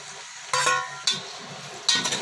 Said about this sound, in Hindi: ये हमने घी डाल दिया इसके अंदर 1 प्याली। तो नाज़रीन ये प्याज मैं इसके अंदर डाल रहा हूँ।